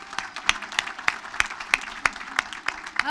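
An audience at a student athlete graduation ceremony claps in a fairly even, sparse rhythm, the individual claps sharp and moderately faint, with no cheering.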